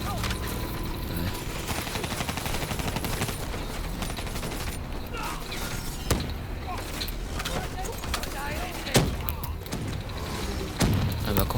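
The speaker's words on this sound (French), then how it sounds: "s'il y a 10 robots qui me tirent dessus" Robots fire on the player in Call of Duty Black Ops 3, rapid bursts of automatic gunfire mixed with mechanical clanks and a few sharper impacts, while a player talks over the action.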